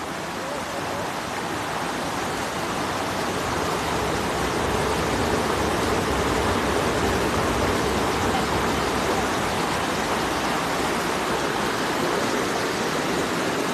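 A strong river current rushes in a dense, steady roar of flowing water, loud and continuous at a fishing spot by a village. It sounds close and does not change throughout.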